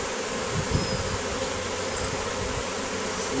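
A bee swarm on a farm preserve buzzes steadily and densely, a loud continuous hum of many insects close by, with no voices.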